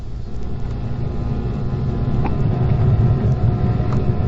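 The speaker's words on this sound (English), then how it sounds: "Car is going around behind the building, checking the back doors." A 1958 residential police patrol car driving slowly around behind a building, a steady low engine rumble and road noise, moderately close and continuous, with no talk.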